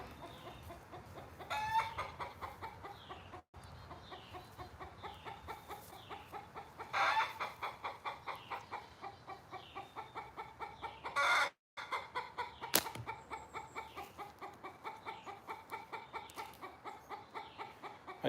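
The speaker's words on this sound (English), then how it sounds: "My chickens are talking." Backyard chickens cluck in a steady stream of short rhythmic calls, moderately close, with a few louder squawks and a brief crow-like cry near the end; no talking.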